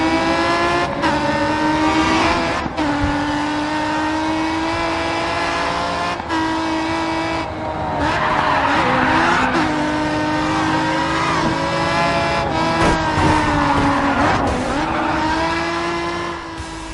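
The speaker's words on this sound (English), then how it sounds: "the immersive soundscape of roaring engines and squealing tires" Racing cars in the Grid 2 video game, engines roaring and revving through gear changes with repeated bursts of tire squeal and skidding, loud and continuous.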